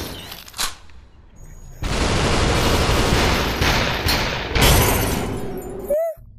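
Superhot VR shotgun blasts fill the clip, a short burst near the start and then a long, loud, dense roar of gunfire with a louder surge near the end, nobody talking over it.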